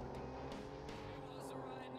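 A toy car engine in the Nintendo Switch game Super Toy Cars hums steadily with revving and shifting tones, accompanied by a sudden tire squeal, continuous and fairly loud throughout.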